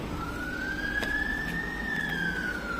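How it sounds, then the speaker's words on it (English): A police siren wails steadily in the distance, a single rising and falling tone, faint under background noise. "Sirens."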